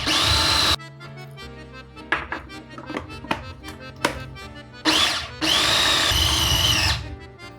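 Egg yolk and warm milk being worked into crumbly dough in a food processor, the motor whirring in several bursts: a long opening run, a string of short choppy pulses, then two more sustained spins near and loud.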